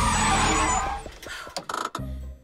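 A loud engine roar dies away, then brakes hiss and squeal in short bursts as a bus slows and stops, leaving a low idle.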